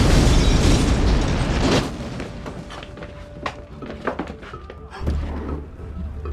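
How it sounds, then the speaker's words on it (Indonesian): A car blows up in an action film scene, a loud roaring blast that fades into crackling debris and scattered thuds, with a second heavy boom near the end. "Donli yang sedang berada di luar pun meledakkan sebuah mobil"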